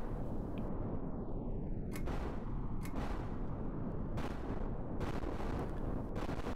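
A tank firing in Kerbal Space Program with the BDArmory mod, cannon shots cracking out at irregular intervals over a steady loud roar of engine and battle noise, one whistling sweep early on.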